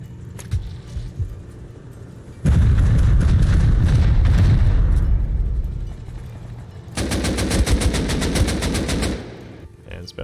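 Rockets and automatic gunfire during a raid in the Rust console video game: a loud sustained barrage of blasts and rattling fire, then a rapid rhythmic burst of machine-gun shots, with some background chatter.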